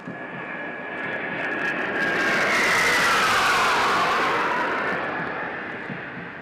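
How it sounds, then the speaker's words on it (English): Su-30 fighter jets pass over the parade ground at the NDA passing out parade in Khadakwasla, Pune: a broad jet roar swells loud toward the middle, then slowly fades, with no talking. "as you can see the Su-30 aircrafts approaching the parade ground, bidding farewell to the passing out course"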